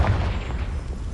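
A Confringo fire spell exploding in Hogwarts Legacy, one low, rumbling boom with a muffled burst that fills the short moment and then fades.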